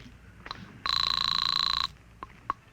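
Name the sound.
telephone ringing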